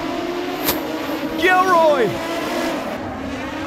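Modified sedan race cars at Maryborough Speedway scream past in a close pack with rising and falling engine whines. An excited commentator talks over the engines throughout.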